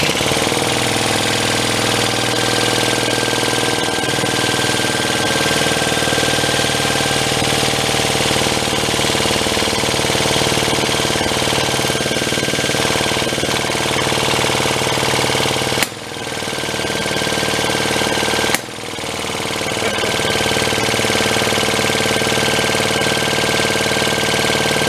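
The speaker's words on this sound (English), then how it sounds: "It's kind of like a hit and miss engine, isn't it?" A pre-war Elgin cycle engine that sat at least 45 years in a barn runs with a loud, steady mechanical drone and hum, with two brief dips in power near the end.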